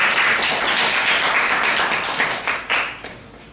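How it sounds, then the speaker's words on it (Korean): Korean classroom of students giving a round of applause, dense continuous clapping from many hands close by that fades out near the end. "박수 한번 주겠습니다"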